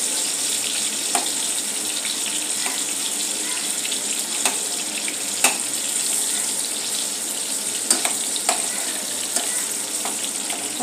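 Stuffed bitter gourds roasting in a pan and being turned over; a steady, close sizzle runs throughout, broken by a few sharp clicks and scrapes as the pieces are flipped.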